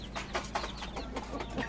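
Desi chickens cluck in a steady, busy run of short calls close by, with a continuous low hum underneath and no voices.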